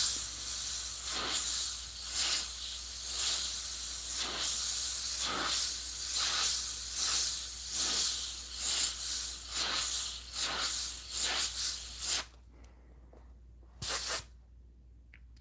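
An airbrush sprays paint onto hats with a continuous close hiss, pulsing slightly with each pass, then cutting off abruptly near the end apart from one brief final burst.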